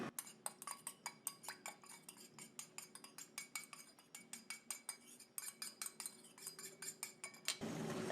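A utensil stirs homemade face lotion in a small container, giving a quick series of light clinks and taps at a steady rhythm, close and faint, ending with a brief louder rustle.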